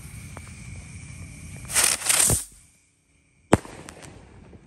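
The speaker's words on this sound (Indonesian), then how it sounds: "Pertama kita nyalakan mercon Circle Builds ukuran mini." A mini Circle Builds firecracker hisses and sputters in a bright burst lasting about a second, goes silent, then gives one sharp close pop followed by faint crackle at a night Ramadan celebration.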